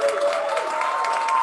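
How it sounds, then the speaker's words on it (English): Sustained applause from a standing audience at an evening concert of Iranian and Middle Eastern music and dance, a dense, steady wash of many hands clapping with crowd cheering mixed in throughout. "Please clap for our wonderful performers here."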